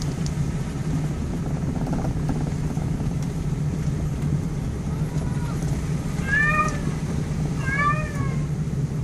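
A cat meows twice in the second half, short rising-falling calls heard over a constant low droning hum of a vehicle interior.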